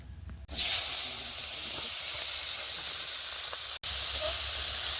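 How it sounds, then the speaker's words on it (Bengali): Fish frying in hot oil in a wok gives off a steady sizzling hiss that starts suddenly and carries on evenly, broken once by a very brief gap near the end. "কড়াইটা গরম হয়ে যাওয়াতে তেল দিয়ে তাতে মাছগুলো কিন্তু দিয়ে দিয়েছে ভাজার জন্য"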